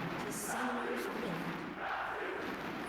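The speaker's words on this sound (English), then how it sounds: "Crowd is loud, honestly. Going nuts right now." Home crowd at a League of Legends esports finals in a Wildcard Qualifiers arena, loud cheering and shouting that swells in bursts, steady and roaring with no clear speech on top.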